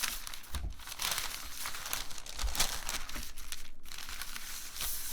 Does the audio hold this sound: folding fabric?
yes